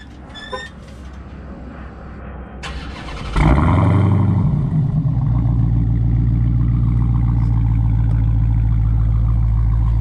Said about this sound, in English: It's honestly kind of hard to beat a Hemi V8. I love the way they sound. They have that iconic burble to them.